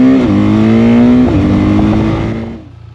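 A BMW R12nineT 1200cc motorcycle accelerating hard from a standstill, its engine note climbing through quick shifts, loud and close before fading away at the end.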